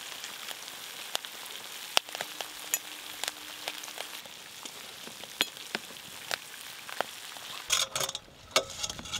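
Jalebi fry in hot oil with a steady close sizzle, scattered sharp pops and crackles throughout, and a louder bubbling patch near the end.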